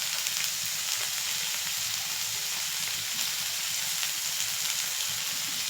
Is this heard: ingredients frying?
yes